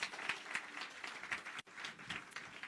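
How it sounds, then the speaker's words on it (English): Applause from an audience at a university campus gathering in Soweto, continuous clapping heard faintly and at a distance, steady for a couple of seconds with a brief dip midway. "So let's give her again another hand of applause."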